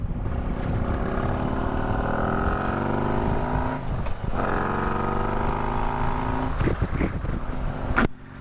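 A motorcycle engine idles and revs steadily up close, its low rumble holding throughout with brief dips and surges near the end.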